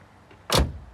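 A single solid car door slams shut up close, a short heavy thud with a bright burst, preceded by a faint click and followed by a quick fade.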